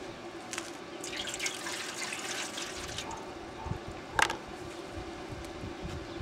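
Water poured into an aluminium pot that was welded with a graphite electrode, a steady splashing, trickling stream with a brief louder splash near the end, close and alone.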